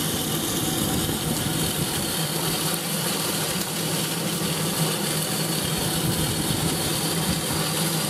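A 1980s Tefal Spinmaster spin dryer drying towels gives a steady, continuous mechanical whir with a low motor hum and broadband rushing noise, running evenly throughout without pauses, close by.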